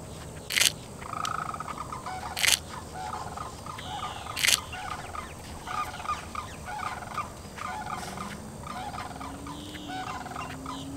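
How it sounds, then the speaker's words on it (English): A flock of sandhill cranes calls in the distance in a winter wetland, rattling, bugling cries repeating steadily over soft background ambience, with a few louder close bursts. "there's a whole bunch of sandhill cranes over there I can hear"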